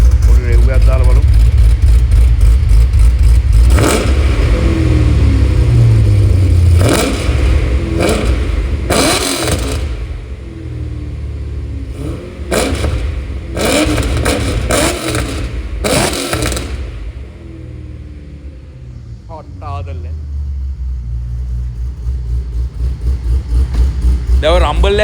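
A Holden Commodore SSV engine, briefly cold-started and warming, revs with a deep rumbling roar, rising in a few throaty bursts over a steady low idle, close and loud, with someone talking over it.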